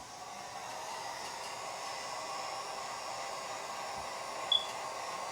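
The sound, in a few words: heat gun defoaming epoxy resin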